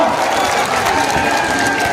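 A crowd at a political rally in Bihar claps on cue, a dense patter of applause lasting a couple of seconds with a voice carrying over it.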